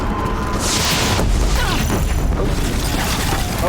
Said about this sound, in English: they're shooting at us with missiles